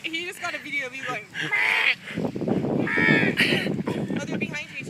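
Birds, crows and geese, cawing and honking in loud, repeated calls close by, mixed with people talking and laughing over them.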